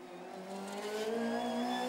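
Formula Ford race cars circle the track, a rising engine whine climbing in pitch as a car accelerates, fairly faint and distant at first, then growing louder.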